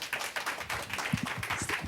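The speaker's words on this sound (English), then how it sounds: "Big applause for her." A small round of audience applause at a marketing panel event, quick scattered claps from a modest crowd, fairly faint and brief, with no talking over it.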